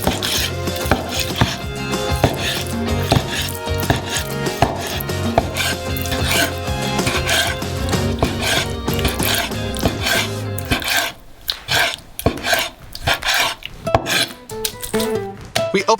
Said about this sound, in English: And then you cut the already cleaned fillet into cubes.